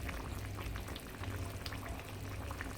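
Curried chicken back with ginger and garlic simmering in a pot on a home stove, a continuous dense bubbling and gentle sizzle that stays steady and close throughout.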